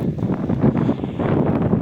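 Steady wind in a cherry orchard rushing and buffeting against the microphone, a continuous rough roar with no clear pauses.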